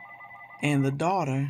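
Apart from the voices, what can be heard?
house phone ringing in the background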